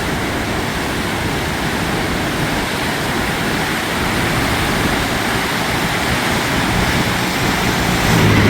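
The river at Grand Falls, New Brunswick, pours beside a busy highway, producing a loud continuous roar of rushing water with some wind buffeting, swelling slightly louder at the end.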